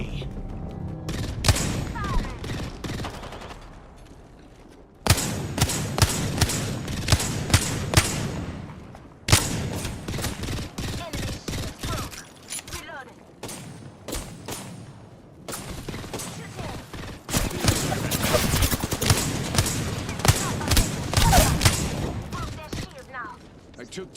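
Repeated bursts of smart-bullet gunfire from the video game Final Fantasy XVI, loud and close in several dense rapid volleys separated by brief pauses, with combat chatter from game voices between and under the shots.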